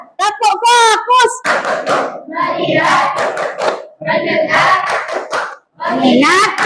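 Classroom children stand and clap a rhythmic chant with their teacher, sharp hand claps punctuating loud, close group chanting voices.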